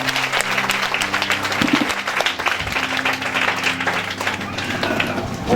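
A church congregation in Lomé, Togo applauds loudly, many hands clapping in a dense, continuous burst with crowd noise mixed in, close and sustained for several seconds.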